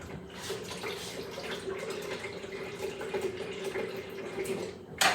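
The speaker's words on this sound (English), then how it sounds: "I will go ahead and add some water to that." Water poured into a blender for a protein shake, a steady, soft rushing pour that runs continuously for several seconds at moderate distance.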